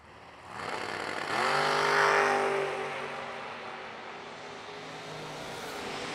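Drag race cars launch at the line, a late model Camaro among them, their engines rising from a rumble into a loud revving roar that swells and then holds steady as the cars pull away.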